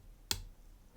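A single sharp, faint pin click sounds as a Tigris Omega oval cylinder lock is being picked, very brief against a quiet background.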